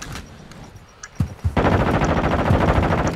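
Gunfire in the video game Call of Duty: Modern Warfare II: a few sharp isolated shots, then a sustained rapid automatic burst rattling loudly and close for the last couple of seconds.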